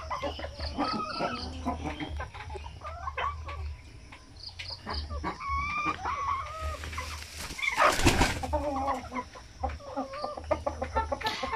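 Peruvian rooster and hens cluck and call close by in a yard, with repeated bursts of clucking, a louder squawk near the middle and a steady chirping of crickets underneath.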